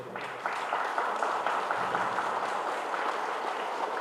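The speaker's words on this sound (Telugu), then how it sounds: "ఎవరి చేతులు వాళ్ళు చూస్తూ గట్టిగా చప్పట్లు కొడదాం" A workshop group claps after a meditation session, a sustained wash of applause from many hands that holds steady throughout, moderately loud, with no speech.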